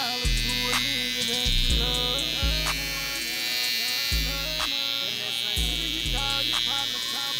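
Babyliss Pro FX hair clippers run with a continuous high, buzzing drone, close and loud, while a voice talks over them and a rhythmic low thumping repeats in the background.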